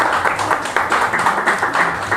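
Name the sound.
audience applause after poetry reading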